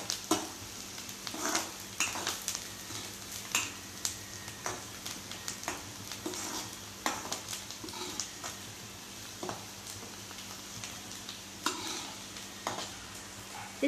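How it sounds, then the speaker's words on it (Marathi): Sliced garlic sautéing in a pan sizzles quietly while a utensil stirs it, making repeated scraping and tapping strokes in an uneven rhythm. "आता छान व्यवस्थित असं परतून घ्यायचं आपल्याला हे।"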